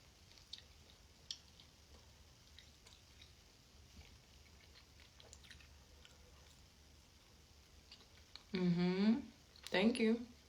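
Someone chewing Mamba fruit chew candies makes soft, faint mouth sounds through a quiet stretch, followed by two louder bursts near the end.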